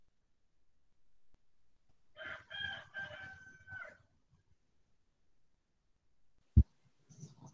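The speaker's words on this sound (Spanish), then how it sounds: "¿Quién tiene gallos?" A rooster crows once at a distance, a drawn-out cock-a-doodle-doo in a quiet setting, followed by a sharp sudden knock and a few faint clucks.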